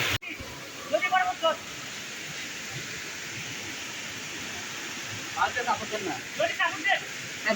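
Khoyasora waterfall in Sitakunda pours in a steady broadband rush close by, and people talk over it in short bursts.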